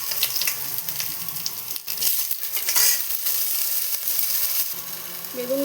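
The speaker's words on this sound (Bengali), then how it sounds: "এবার এর মধ্যে আমি বেগুনগুলো ভেজে নেব।" Eggplant pieces frying in a pan with a steady sizzle and faint stirring scrapes, the sizzle running continuously at moderate loudness.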